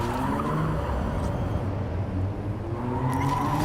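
A car driving in the video game Cyberpunk 2077, steady engine drone with squealing tires skidding through turns, continuous and fairly loud with no talking over it.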